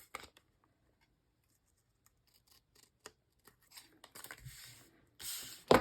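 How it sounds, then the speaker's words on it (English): Scissors trim brown packing paper in a few scattered soft snips and rustles, quiet and close, with a louder crinkling burst of paper at the end. "I might trim that down now with my scissors"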